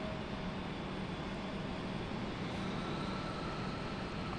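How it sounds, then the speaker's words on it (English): Embraer airliner beginning to taxi at Raleigh-Durham airport, a steady broadband engine rumble and whine holding constant throughout, loud and continuous with no voices. "Alright, our Embraer is finally getting moving."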